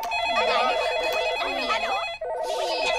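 A telephone bell rings steadily for about two seconds under a cartoon setting, stops briefly, then starts ringing again, loud and close.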